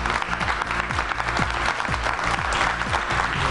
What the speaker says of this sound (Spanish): vamos a pedir un aplauso para ustedes